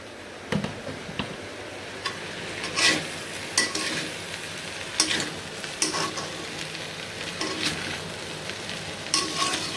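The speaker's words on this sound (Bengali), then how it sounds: "আর এখানে আলু ভাজি গরম বসাইছি।" Potato bhaji heating in a pan on a home stove: a steady sizzle of frying broken by repeated sharp scrapes and clinks of a spatula stirring, close and fairly quiet.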